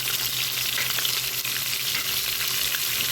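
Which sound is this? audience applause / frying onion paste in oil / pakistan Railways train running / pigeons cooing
frying onion paste in oil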